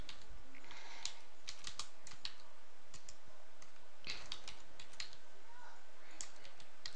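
Someone typing on a computer keyboard, a quick, irregular patter of close, light key clicks in short bursts with brief gaps, quiet overall.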